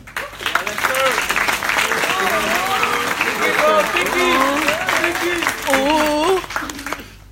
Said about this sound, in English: Give a round of applause to Lester.